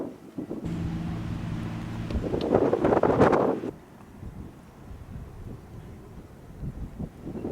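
Wind gusts buffet the microphone outdoors in the Arizona desert near Quartzsite, a loud rumbling roar building and peaking for a few seconds before easing into a lower, steadier blustery noise.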